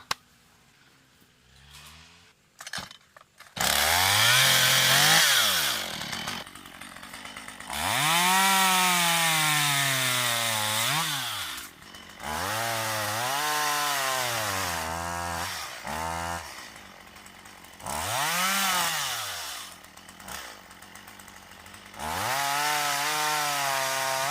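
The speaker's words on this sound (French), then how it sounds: "C'est même plus les lagueuses, c'est vraiment la tronçonneuse." A loud chainsaw revs and bites into wood while clearing brush, in several long cuts, pitch dropping under load and rising between passes, with short pauses.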